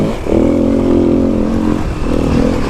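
A 2021 Kawasaki KLX300 dirt bike engine revs loud and close while riding off-road through whoops, a steady mid-pitched drone that dips briefly before pulling again.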